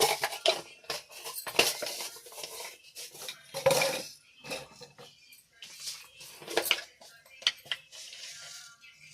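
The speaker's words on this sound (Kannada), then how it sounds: "ನೋಡಿ, ಸಾಸಿವೆ ಹಾಕ್ತಾ ಇದ್ದೀನಿ, 1 ಸ್ಪೂನು" A spoonful of mustard seeds hits hot oil in a pan for tempering, making irregular crackling pops and spattering bursts mixed with light clinks of a spoon on metal, fairly close and moderately quiet.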